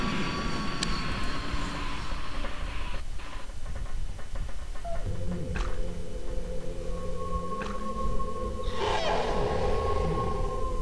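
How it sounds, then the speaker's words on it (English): A drawn-out, warbling cry of an anthropod alien dying in X-COM: Apocalypse, with groaning tones and rising squeals, swelling and fading over a steady rumbling background, like a synthetic monster dying. "that was the sound of this anthropod dying"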